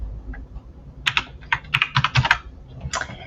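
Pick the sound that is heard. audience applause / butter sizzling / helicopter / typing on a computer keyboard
typing on a computer keyboard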